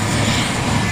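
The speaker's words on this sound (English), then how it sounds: "there's an airplane that just landed. Not landed. You got like 2 moving." An airplane moves near an airport at a car meet, its engine giving a loud, steady roar that fills the whole brief moment without a break.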